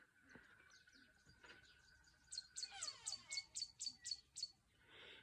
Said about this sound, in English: And lots of birds.